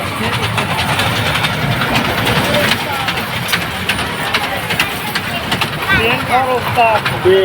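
A children's ride train at a handloom and textile fair in Bogura rumbles and clatters nearby, with a continuous mechanical drone under steady talk and crowd chatter.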